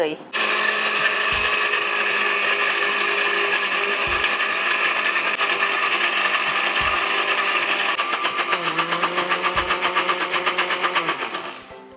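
A blender runs at speed 2 while oil is drizzled in to make a creamy salad dressing. The motor gives a loud, steady, close whir that turns to a pulsing rhythm near the end.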